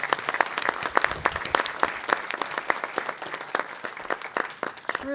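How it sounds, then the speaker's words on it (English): A meeting audience at a school board session applauds the teachers, steady dense clapping from many hands, close and loud, lasting throughout without speech. "let's give a big round of applause for all those teachers."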